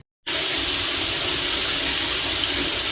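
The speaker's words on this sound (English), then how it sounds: "That's my sink water going." A kitchen sink tap is turned on abruptly and water gushes steadily into the basin, a loud, continuous hiss of running water lasting to the end.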